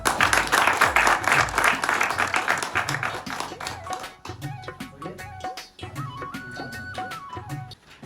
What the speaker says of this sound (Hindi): तो ताली हो जाए जोरदार